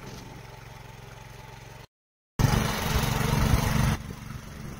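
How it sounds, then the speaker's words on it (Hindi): A small tractor ploughing tiny terraced mountain fields runs with a steady engine drone, briefly cut to silence, then returns louder and rougher before easing down slightly. "अभी आप लोग इस ट्रैक्टर को चलता हुआ देख रहे हो, इस तरीके से फाड़ों में जुताई होती है।"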